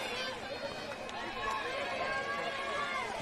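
Crowd noise at a girls' high school basketball quarterfinal between the St. Amant Lady Gators and their opponent, a steady dense roar of fans and cheering filling the gym throughout.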